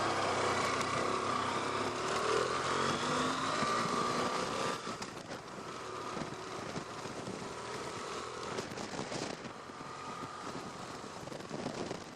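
BMW F800GT motorcycle engine humming while riding on the road, a steady drone mixed with wind rush, slightly louder for the first five seconds and then settling at a lower, even level.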